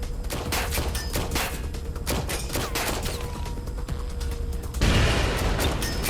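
Rapid bursts of gunfire from a firefight in Watch Dogs: Legion, dense overlapping shots cracking in quick succession, with a louder, heavier burst near the end.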